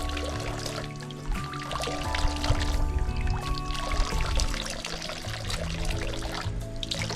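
Water pours and splashes over hands being rinsed outdoors at terraced rice fields, a steady running stream close by with a broad noisy wash throughout.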